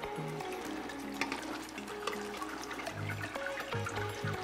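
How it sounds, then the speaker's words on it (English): Sparge water poured into a homebrew mash for a Belgian dark strong ale, a soft, steady trickling splash with faint gurgles, quiet and close. "I'm gonna sparge with about 3 liters to get us back"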